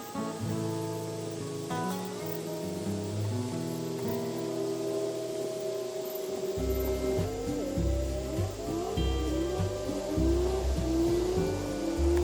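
A Toyota Land Cruiser HDJ81 on a test drive after servicing, its engine and road noise rising and falling steadily with shifting tones throughout, fairly close and continuous, with no talk.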